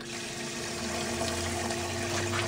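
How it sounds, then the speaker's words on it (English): Water pumped from a sump sprays onto the surface of an aquaponics fish tank, a steady close splashing hiss over a low pump hum. "Water comes in, we've got it set where it sprays on the top of the water to add aeration to the water"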